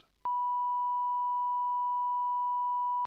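Steady pure sine tone used as a GLA chamber sound, a single loud continuous beep lasting about three seconds with clicks at its onset and cutoff.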